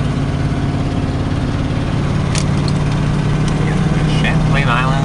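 A Chevrolet Suburban towing a trailer pulls away and shifts into second gear, its steady mid-low engine drone heard from inside the cab, loud and continuous, with faint clicks and squeaks over it.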